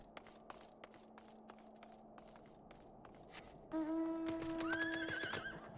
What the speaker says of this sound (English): Different horse this time.